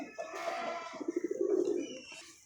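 A pigeon coos close by in a short, throaty burst of rolling notes, alone and fairly quiet.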